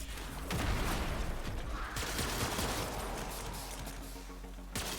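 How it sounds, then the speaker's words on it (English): Explosive grenades fired from a weapon in Warframe, a busy clatter of mechanical shots and blasts at moderate level, ending in a sharp crack. "Explosive grenades, that's what I'm firing."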